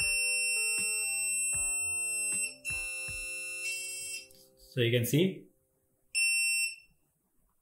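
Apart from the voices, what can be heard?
buzzer beeping at intervals on ESP32-S3 board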